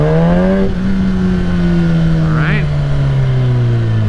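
A 2021 Kawasaki ZX-10 sportbike with a flashed ECU idles close by, a loud, steady low engine drone with a slight wavering that holds throughout.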